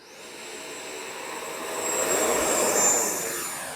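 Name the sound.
RC F-18 80mm jet model taking off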